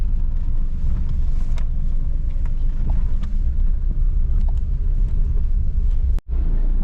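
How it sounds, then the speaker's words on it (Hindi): Engine of a Paroo car pulling out toward the main road after a tune-up, a steady loud rumble with road and wind noise throughout, briefly cut near the end. "फिर भाई पारो की टेस्ट ड्राइव, इसको निकालते हैं मेन रोड की तरफ।"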